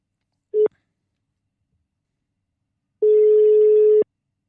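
Telephone ringback tone while placing a call: a brief steady beep, a pause of over two seconds, then a longer one-second tone, clean and alone.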